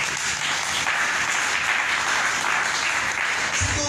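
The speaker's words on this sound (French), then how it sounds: "Applaudissons notre Dieu." Congregation applauding during a French-language church worship service, a dense steady wash of many hands clapping together throughout, loud and continuous.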